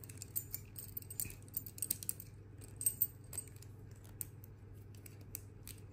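Keys jangle and clink as they are worked off a padlock key ring, giving a run of small, close metallic taps and rattles in irregular bursts over a low steady hum, with no talking.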